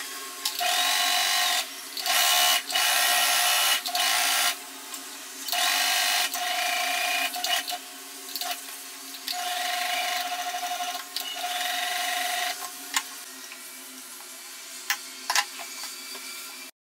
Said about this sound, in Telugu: ఇక్కడ నేను ఎలా డ్రా చేసుకున్నానో ఆ లైన్ మీదే ఇలా ఒక స్టిచ్ వేసేసుకుంటున్నా